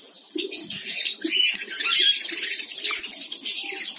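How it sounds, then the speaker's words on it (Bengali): Finches at a bird breeding farm chirp and twitter steadily in a busy high-pitched chorus, with softer cooing lower down, fairly close and with no one talking. "ফিন্স পাখি"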